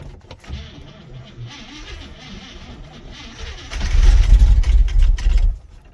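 An International truck engine cranks slowly on a cold start in a snowbank, with labored starter churning that swells into a louder, heavier rumble near the end before cutting off.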